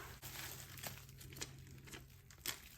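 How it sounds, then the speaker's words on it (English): Packing tape pulled and pressed onto a wrapped package holding fragile items, giving soft crinkling and tearing rustles with a few sharper crackles, quiet and close. "And we're gonna tape this here too."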